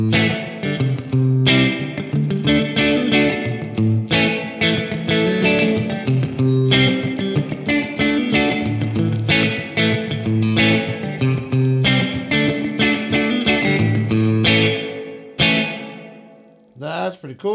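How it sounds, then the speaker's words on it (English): Electric guitar riffing through an MXR Reverb pedal set to room mode, with short reflections giving a slapback-like repeat; a steady run of picked notes and chords plays close and loud, ending on a sustained chord and a brief pause. "It's almost like a little slapback delay"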